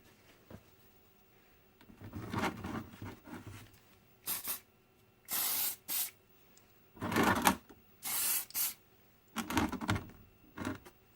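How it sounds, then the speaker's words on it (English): Clear lacquer sprayed from a can onto a custom Hot Wheels mash-up of a '32 Ford and '31 Alfa, heard as several short, close hissing bursts separated by brief pauses, after some quieter handling noises. "We'll just give it a clear lacquer"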